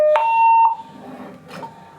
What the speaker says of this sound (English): So when I hit the alarm